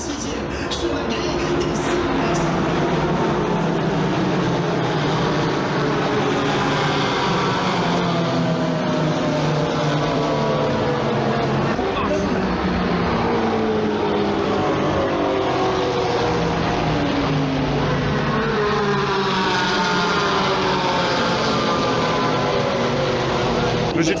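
GT4 race cars climb past Raidillon at Spa during a rainy 24 Hours centenary weekend, engines roaring loudly and continuously as several cars pass in overlapping sweeps, with wind and crowd wash underneath.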